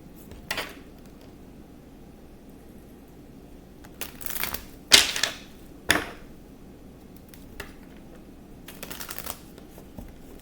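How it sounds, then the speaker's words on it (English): A deck of tarot cards is shuffled up close in a quiet room, with several short riffling bursts clustered in the middle and one more near the end. "I'm going to shuffle the cards."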